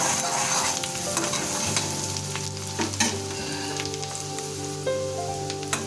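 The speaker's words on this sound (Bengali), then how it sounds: "এখন এটাকে আমরা মিনিট 3 ধরে ভালোভাবে ভাজা করে নেব" Chopped onion and garlic sizzle steadily in a kadai while a spatula stirs and scrapes now and then, a close, continuous frying hiss with no talking.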